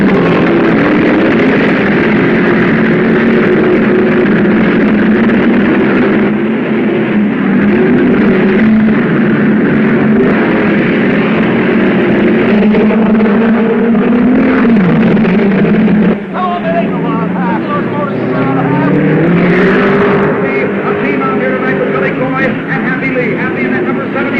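Race cars on a dirt or short oval track roar away at the start of a 40-lap main event, a loud steady engine drone throughout with a shift in pitch near the end, under continuous announcer commentary.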